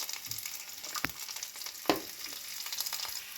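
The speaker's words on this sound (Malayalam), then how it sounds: "ഒരു പാൻ വെച്ച് അതിൽ കുറച്ച് എണ്ണ ഒഴിച്ചു അതൊന്ന് ചൂടായി വരുമ്പോൾ നമുക്ക് എടുത്തു വെച്ചിരിക്കുന്ന കൊച്ചുള്ളിയും കരിവേപ്പിലയും ഇട്ട് കൊടുക്കാം" Shallots and curry leaves fry in hot oil in a pan, giving a continuous close sizzle with two sharp clanks of a spoon against the metal. No voices.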